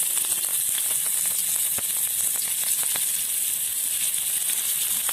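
Onions hissing steadily in hot oil with popping cumin seeds, a continuous close sizzle with scattered sharp crackles.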